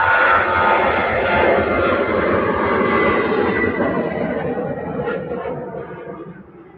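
A Jet2 airliner at Manchester Airport roars past, a broad, steady jet engine rumble that stays loud throughout and slowly fades toward the end.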